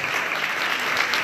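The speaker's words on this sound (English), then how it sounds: "Can we please have another round of applause for these amazing..." A round of applause fills the room at a Leukemia & Lymphoma Society student awards event, steady dense clapping close and loud throughout.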